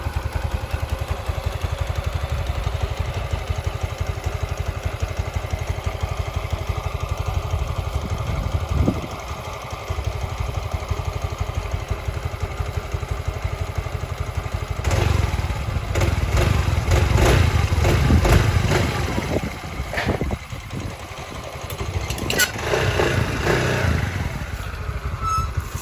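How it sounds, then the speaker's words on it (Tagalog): Honda Mio i 125 scooter-motorcycle engine idling to warm up after an oil change with RS8 oil, a steady close putter that runs continuously with a few louder revs and knocks partway through. "So paanda rin na natin para paginitin muna natin makina natin."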